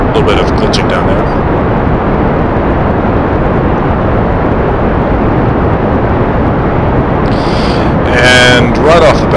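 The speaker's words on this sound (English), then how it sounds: "Throttles all the way up, and press space to launch." A loud, steady, roaring rocket engine launch in Kerbal Space Program, a dense continuous blast at full throttle through the whole stretch, with brief electronic blips near the end.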